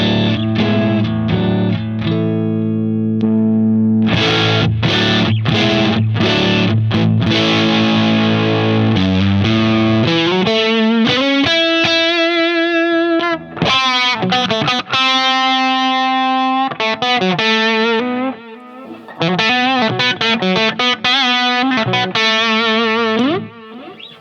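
Electric guitar through an overdrive pedal, loud distorted chords and sustained notes, then a run of riffs with brief pauses, played alone with no talking.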